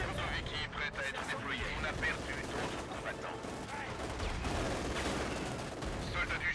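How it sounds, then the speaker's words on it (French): Gunfire rattling through a Company of Heroes 2 battlefield, a dense continuous mix of rifle and machine-gun bursts with distant explosions, loud throughout, with voices in the game chatter. "l'ennemi nous tire dessus"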